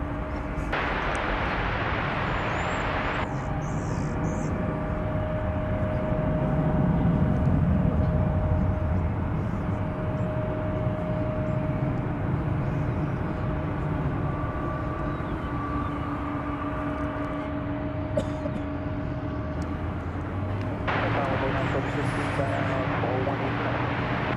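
A Boeing 737 jet airliner departing DFW Airport gives a steady, loud engine roar that holds throughout, with a broad rumble swelling in the middle, heard from the airfield without talk.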